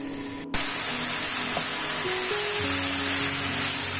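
Chicken spring roll filling stir-frying in a pan with ginger-garlic paste, soy sauce and vinegar, a loud steady sizzle that starts abruptly and hisses on without a break.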